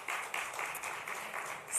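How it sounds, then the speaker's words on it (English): An audience at a live-streamed AHEM Nigeria event gives a round of applause, a faint, steady spatter of clapping that swells briefly near the end. "Another round of applause, please, for AHEM."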